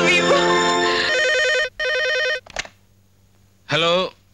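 An old-style telephone rings in short electronic bursts, loud and near. There are three trilling rings with pauses between them, and a brief clatter comes in the middle.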